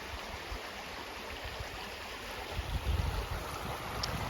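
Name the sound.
creek flowing water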